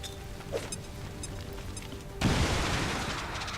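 A grenade blast in XCOM 2 blows apart enemy cover: a sudden loud broadband explosion with crumbling debris that lingers and slowly fades, following a stretch of quieter game ambience with a few small clicks.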